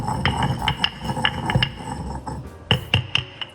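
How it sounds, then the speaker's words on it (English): Saffron strands being ground to powder in a mortar, with ringing clinks and taps of the pestle against the bowl in an irregular rhythm, close and fairly crisp. "We're going to grind that up to a powder, which doesn't take long"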